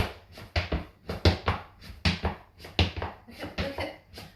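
Tap dancing steps in a basic heel, chug, tap, down pattern, a steady run of sharp percussive taps and scuffs on a hard floor, close and clear with no talking.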